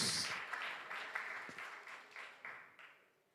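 A church congregation applauds at a special guest service. The clapping starts dense and loud, then thins and fades steadily over about three seconds.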